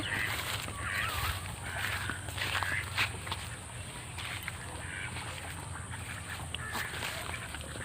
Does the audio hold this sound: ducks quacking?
yes